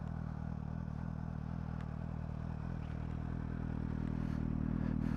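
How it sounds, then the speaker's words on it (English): A 2012 Suzuki GSR750A with an inline-four engine and Yoshimura exhaust gives a steady, raw, close engine drone throughout, with no talking. "This Yoshimura exhaust makes it sound very raw, which isn't typical for a inline 4 petrol engine"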